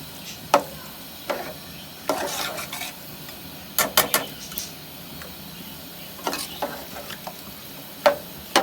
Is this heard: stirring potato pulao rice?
yes